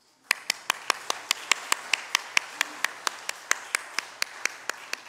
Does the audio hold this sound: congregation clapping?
yes